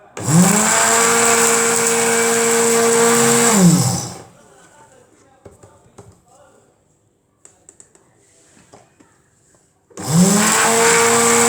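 An electric grinder runs at high speed on roasted spices, a loud whirring drone that winds down after about four seconds, then a quiet spell with small clicks before the motor starts up again.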